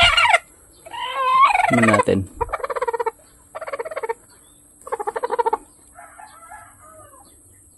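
A turkey gobbles several times in short, rattling bursts with gaps between, close and loud, beside egg incubators, after a brief spoken question at the start.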